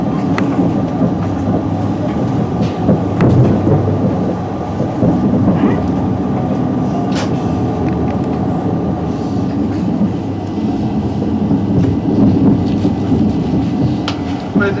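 Northern train running on the Harrogate line toward Leeds, heard from inside the carriage as a steady loud rumble with faint rail clatter, continuous throughout and no voices.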